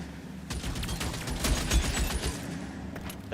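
Rapid bursts of gunfire from a gun that never runs out of ammo in the L.A. Noire video game, a dense sustained volley of cracks that swells in the middle and trails off, with no voices over it.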